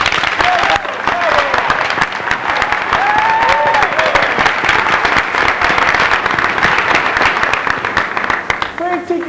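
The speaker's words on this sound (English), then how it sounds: "a warm round of applause, if you please, for our fully trained orchestra" A theatre audience applauds the orchestra at a musical stage show, dense sustained clapping filling the hall with some voices mixed in near the end.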